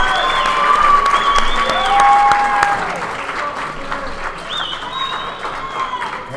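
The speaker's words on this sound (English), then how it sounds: "Let's get another round of applause for that" Loud crowd applause after a submission win at a grappling invitational in California, dense clapping with scattered whistles and cheers swelling around the second second, then easing but continuing.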